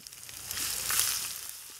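Ginger garlic paste sautéing in hot oil with mustard seeds and curry leaves for a fig gravy, a soft steady sizzle that swells slightly in the middle of a short moment.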